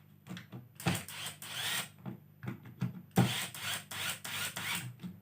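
A Hoki electric screwdriver tightens screws one by one, giving short whirring bursts in quick succession with brief pauses between them, close and fairly quiet, with no talking.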